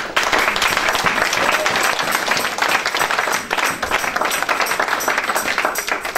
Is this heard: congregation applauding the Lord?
yes